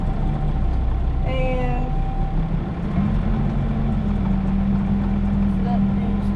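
A tractor runs its PTO to drive a square hay baler, giving a loud, steady mechanical drone with a low hum outdoors, and a voice speaks briefly over it.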